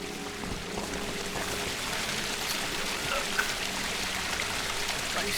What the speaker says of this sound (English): this is a marvellous river